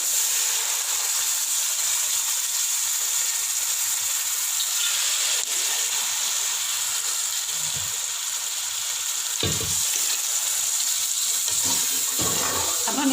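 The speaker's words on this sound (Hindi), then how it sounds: "अब मैं इसमें पानी ऐड कर रही हूँ।" Water splashes and gushes steadily into a pot of chana pulao, a continuous hissing pour with a few thumps of movement.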